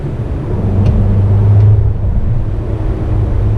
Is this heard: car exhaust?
yes